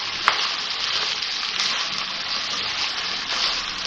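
Minced meat qeema with yogurt fries in a pan as green chillies are stirred in, giving a loud, steady, close sizzle with a brief clink near the start.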